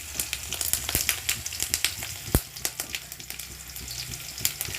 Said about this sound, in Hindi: रसुण को पकेबे